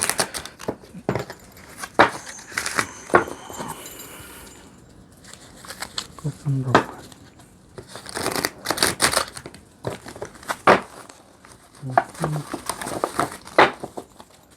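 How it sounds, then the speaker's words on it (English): Irregular papery crinkling and rapid flicking bursts of cards being shuffled up close, with a voice speaking briefly over them. "I'm gonna go ahead and just shuffle out all of your cards at once"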